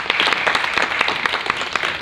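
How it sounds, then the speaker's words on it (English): Applause from an audience at a school Grandparents Day event, a dense, steady patter of many hands clapping throughout. "And please give them a round of applause."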